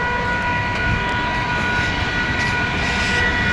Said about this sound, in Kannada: ನಾನು ಇವಾಗ ಟ್ರೈನ್ ಒಳಗೆ ಹೋಗ್ತಾ ಇದ್ದೀನಿ